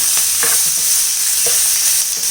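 Close, loud frying in a pan for an egg-and-bread snack, a continuous sizzle with a few distinct scraping strokes of a spoon stirring through, no voices.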